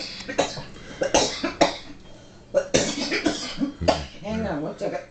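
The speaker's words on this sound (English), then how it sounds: "I don't mean to cough in your ear." A person coughs repeatedly in several harsh bursts close to the microphone, with voices heard between the coughs.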